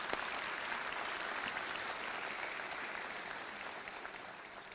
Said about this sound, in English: I would like to give them a round of applause as well.